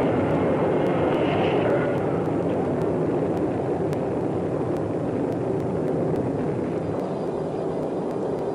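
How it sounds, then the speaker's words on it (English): Rocket engines roar at liftoff, a loud, continuous, dense rumble that holds steady and slowly eases, with no voices over it. "All engine running. Liftoff. We have a liftoff."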